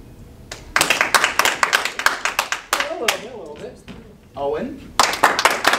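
A live audience claps in several short bursts to vote on a contestant, with gaps between rounds where voices call out and cheer.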